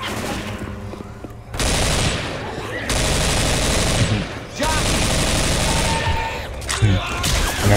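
Gunfire in the Left 4 Dead 2 video game, set in a zombie-filled shopping mall: loud, dense bursts of rapid automatic shooting that run almost continuously, with a few short pauses between volleys.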